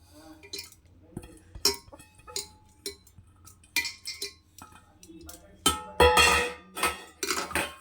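Dry lentils are tipped into a metal pressure cooker, giving scattered rattling clinks and metallic knocks that grow denser and louder toward the end, with no talk.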